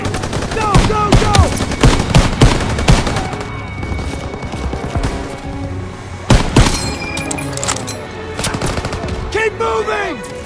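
German machine gun fire rattles out of a barn in Call of Duty: WW2, during the Operation Cobra mission: dense, loud, sustained bursts mixed with scattered gunshots, while shouting voices break through the barrage.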